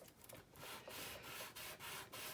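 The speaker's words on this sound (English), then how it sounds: "I'm just rubbing it on my sandpaper" A small 1/32 scale model aircraft tire is rubbed back and forth on sandpaper, giving soft, rhythmic rasping strokes at close range, faint and steady with no talk.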